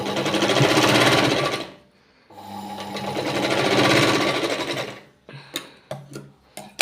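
A sewing machine stitching a hook-and-eye strip runs in two long, steady whirring bursts separated by a brief pause, then gives several short clattering stitches, loud and close.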